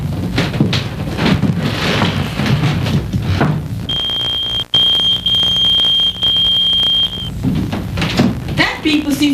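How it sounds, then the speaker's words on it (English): An electronic beeper sounds a single high, steady tone for about three seconds in the middle, heard over and between people talking indoors. "That beeper seems to be going off every half hour."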